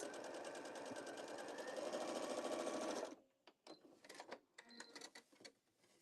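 A sewing machine stitches a small fabric bee pouch in a fast, steady buzz for about three seconds, then stops, leaving quiet clicks and handling noises close by.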